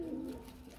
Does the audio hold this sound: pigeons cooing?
yes